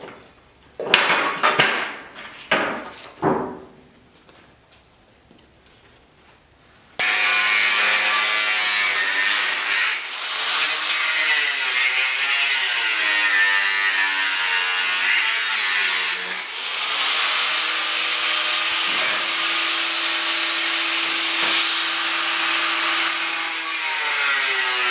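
A power saw cuts sheet metal for a door pillar patch on a 1972 Ford pickup. A few scraping knocks come first, then a loud, steady cutting whine runs almost twenty seconds without a break, close up and with no talk.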